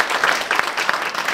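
A concert audience at Skangaļu manor applauds to welcome the singer, a short burst of many hands clapping close and fairly loud.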